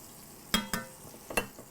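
Pork chops browning in a frying pan, a steady low sizzle with a few sharp clinks and scrapes of a spatula against the pan, close up and with no talking.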